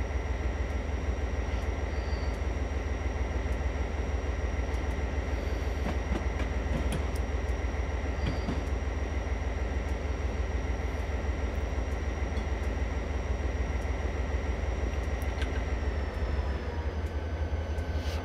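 Canadian National SD40-2 diesel locomotive hauling a winter work train in Train Simulator 2018, a steady loud engine drone and rolling rumble running continuously with a few faint clicks and squeals.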